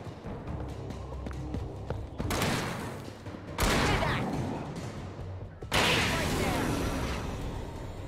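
Gunshots in the Alan Wake video game, several loud blasts striking abruptly one after another, each followed by a lingering noisy tail over a rumbling game background.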